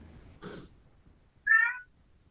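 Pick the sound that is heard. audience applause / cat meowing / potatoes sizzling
cat meowing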